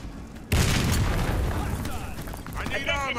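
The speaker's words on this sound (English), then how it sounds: "Oh, ah, grenade!" Warface grenade blast: a sudden loud boom that bursts in and then rolls on as a long, broad roar, fading slowly with some ringing debris near the end.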